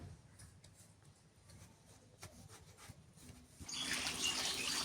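A kitchen tap gushes on near the end, bringing a steady splash of running water while cut pumpkin is washed, after a quiet stretch of faint handling noises.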